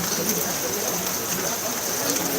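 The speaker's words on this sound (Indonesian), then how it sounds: "Ini suasana hujan" Steady, dense hiss of rain falling on an open field during bull-racing practice in Asemanis, continuous and fairly loud across the whole stretch, with no distinct drops standing out.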